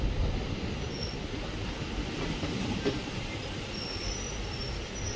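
Mysore–Ajmer Special Express train at Chitradurga station, a steady broadband rumble of rolling cars with faint high wheel squeal, continuous and fairly close throughout.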